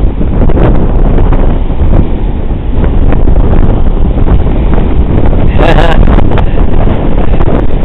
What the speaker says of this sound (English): No, it's not that cold. It's just that it's windy.